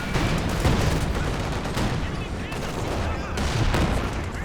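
Continuous battlefield gunfire from a Company of Heroes 2 match, with machine gun bursts and scattered shots layered into a dense, steady din of combat.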